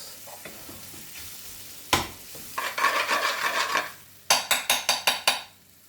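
Jumbo prawns cooking with spices in a pan: a soft sizzle under rhythmic scraping strokes of a utensil against the pan, then a quick run of sharper metallic taps.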